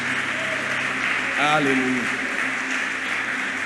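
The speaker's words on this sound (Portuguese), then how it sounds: "Quantos podem aplaudir o Senhor Jesus?" A church congregation applauds, a steady wash of clapping held at an even level throughout, while a voice rises briefly over it.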